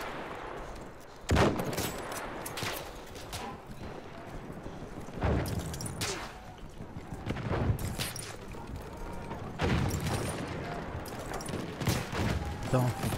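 Rapid gunshots in the Battlefield 1 video game, several loud bursts of rifle and machine gun fire punctuating a constant battlefield din, with faint voices in the background.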